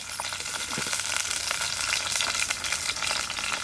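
Onions fry in hot oil in a pan in a village kitchen, giving a continuous close crackling sizzle with occasional stirring scrapes and no talking.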